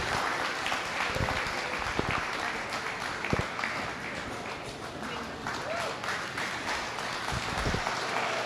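Applause breaks out for the reserve champion at a sheep show, a steady, crowd-wide clapping that fills the space with dense rustling texture, with scattered voices mixed in and occasional sharper knocks cutting through.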